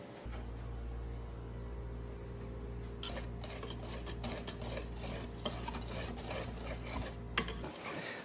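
Lime zest whisked into whipped lime cream, a continuous fast scratchy whisking over a low steady hum, with sharper clinks against the bowl in the second half.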